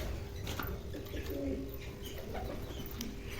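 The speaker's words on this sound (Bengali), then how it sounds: "নতুন ঘরে এসে ডাকাডাকিও শুরু করে দিয়েছে ইতিমধ্যে অনেকেই।" Pigeons coo softly in their new loft, several low throaty calls rising here and there over a steady background hum, fairly close with faint chirps mixed in.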